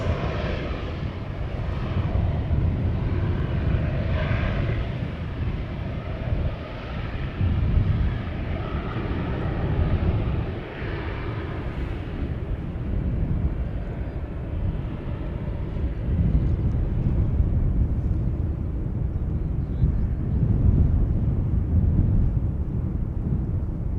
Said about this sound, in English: That was a very horizontal landing.